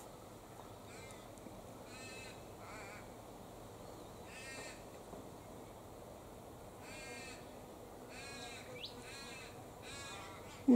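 Australian cockatoos feeding on African boxthorn leaves give repeated harsh screeching calls in short bursts, fairly faint over a quiet outdoor background, with a brief louder knock at the very end.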